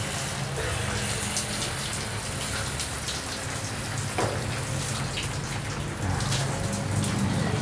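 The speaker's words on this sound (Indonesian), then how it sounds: "Siram kocor itu memadatkan media seperti ini." Water drench-poured onto plant potting media for an Aglaonema, a steady splashing, gushing wash that runs continuously and moderately loud, close by, with no talk over it.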